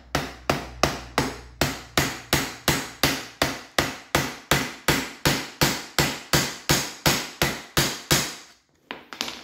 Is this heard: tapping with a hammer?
yes